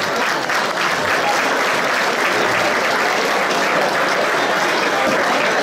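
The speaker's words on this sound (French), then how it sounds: "S'il vous plaît, applaudissez" A crowd at an evening community gathering in Lyon applauds loudly and continuously, dense clapping that stays strong and even from start to finish.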